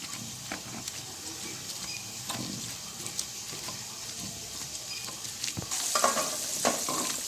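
Eggs fry in a pan with a continuous close sizzle, broken by light scraping and tapping of a utensil. A louder crackling surge comes near the end as the eggs are turned.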